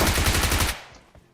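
Bizon submachine gun firing in PUBG Mobile, a loud, rapid automatic burst of closely spaced shots lasting under a second, then cutting off into a fading tail with a faint click near the end.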